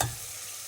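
Vegetables for a roasted pork belly sinigang sauté in a hot pan, a steady close hiss and sizzle with a stirring scrape at the start.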